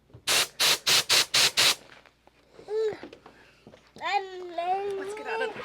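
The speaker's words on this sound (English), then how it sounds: "I'm spraying the glue on here first" Spray glue bursts from a can in five short, evenly spaced hissing blasts while coating running boards for a 1932 Ford, followed by people talking, including a voice.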